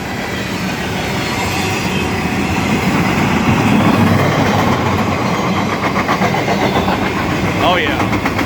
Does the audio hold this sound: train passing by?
yes